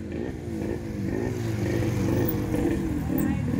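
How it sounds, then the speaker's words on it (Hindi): A four-cylinder Kawasaki Ninja motorcycle engine revving on a group ride, with a steady, loud throaty drone that climbs slightly in pitch, heard close up alongside background voices. "कौन है अमृत भैया पूरा चालू कर रहे हैं अपनी गाड़ी"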